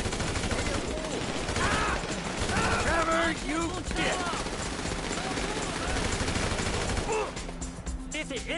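Bursts of AK rifle fire in Grand Theft Auto V crackle repeatedly amid a dense, noisy game mix, with rapid shots layered over other effects and a voice talking over part of it.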